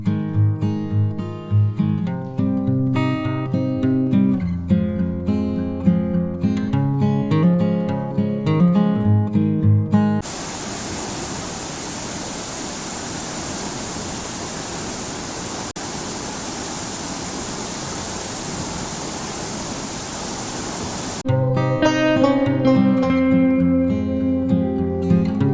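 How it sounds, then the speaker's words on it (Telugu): Gayatri waterfall in Telangana drops from a great height, heard as a steady, dense roar of falling water in the middle stretch, with music playing before and after it. "లైవ్ లో చూస్తే మాత్రం చాలా ఎత్తు నుండి వాటర్ పడతాయి"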